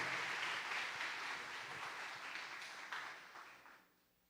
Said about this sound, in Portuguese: Você pode receber o pastor com um aplauso.